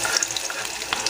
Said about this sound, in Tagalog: Lagay tayo mantika. Gisa natin yung bawang